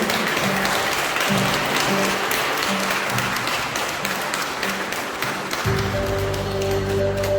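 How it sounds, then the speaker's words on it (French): A church congregation applauds during a French-language worship service, a steady dense wash of clapping throughout, loud and close, with a sustained musical tone or hum entering near the end. "Acclamons-le, acclamons-le."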